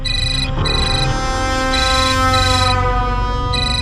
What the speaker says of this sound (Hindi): जाओ फोन उठाओ, उसी का फोन होगा।